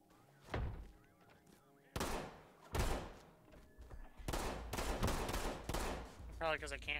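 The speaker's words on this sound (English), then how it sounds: "Where are you guys getting shot from?" Gunfire in a first-person shooter video game comes as several sharp, loud shots and bursts with abrupt attacks, spaced irregularly and then closer together, alongside other game effects.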